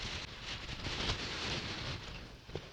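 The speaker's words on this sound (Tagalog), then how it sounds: "Grabe lakas ng hangin" Strong wind roars steadily across the microphone during a motorcycle ride, a dense, close, continuous rush with a small bump near the end and no talk.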